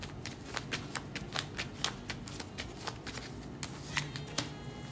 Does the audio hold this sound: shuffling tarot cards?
yes